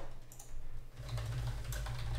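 Keys clacking on a computer keyboard as a build command is typed, a quick run of close, crisp taps over a steady low hum with no talking.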